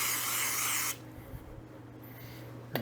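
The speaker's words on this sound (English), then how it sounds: "We give the funnel a little squirt of the cleaner" A brief close squirt from a spray bottle of cleaner into a funnel on a garden tiller, a dense hiss lasting under a second, then quiet handling noises and a short knock near the end.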